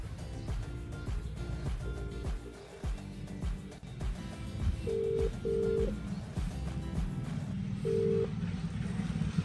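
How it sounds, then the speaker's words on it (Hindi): A mobile phone dials out with several short keypad tones in a row, then a few longer ringing tones follow as the call connects, set against a noisy background with faint talk. "मैं लगा रहा हूँ उसको फोन।"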